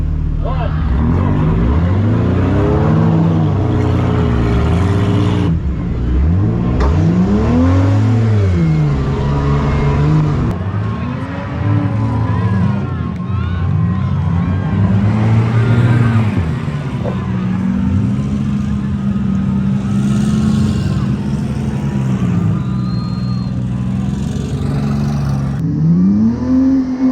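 Avenger race cars accelerate off the start line together, engines revving loudly and sweeping up and down in pitch for most of the run, with a race announcer talking over the close, continuous roar.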